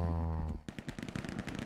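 Gunfire in the World War II shooter Hell Let Loose, a sudden burst of rapid shots following a sustained tone, loud and close with no talking.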